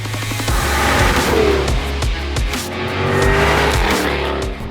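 A Jaguar F-Type sports car revs hard nearby, its engine roaring up and down with sharp crackles and pops from the exhaust between throttle blips.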